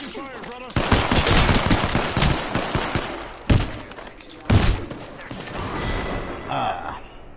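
Rapid gunfire in a shooter video game, with dense automatic bursts, two sharp standalone shots midway, and a fading tail, loud and close.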